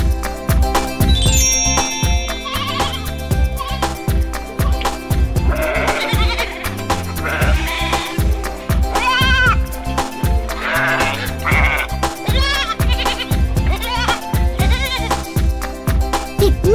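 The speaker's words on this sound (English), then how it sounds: "Kids, baby sheep is called a lamb." A lamb bleating in a children's nursery rhyme toy segment, repeated wavering bleats over bouncy, loud percussive music with jingly tones.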